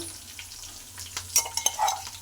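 Mustard seeds, cumin, garlic and curry leaves frying in oil for a vegetable sambar, a soft close sizzle with a few sharp pops and crackles toward the end, no talk.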